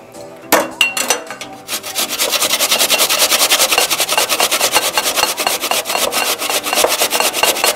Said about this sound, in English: All right, so I'm just gonna grate this up.